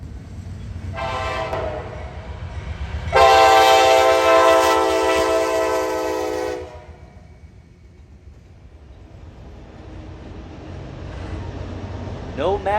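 Heavy freight train hauling loads, its horn blaring loudly in sustained blasts before fading, followed by the distant rumble of passing cars; a voice narrates over part of it.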